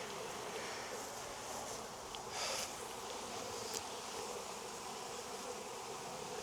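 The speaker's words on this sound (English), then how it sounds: "Small swarm." A small honeybee swarm hums in a constant dense buzz that stays close and even throughout, with a few brief rustles and no talking.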